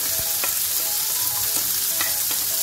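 Shallots, green peas, corn and carrot stirred in a hot pan, with steady frying sizzle and a few scraping spoon strokes against the pan, close and alone.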